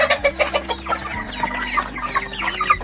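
Chickens clucking in a fast-growing flock, a busy overlapping chorus of short clucks and calls, fairly near, with a steady low hum underneath.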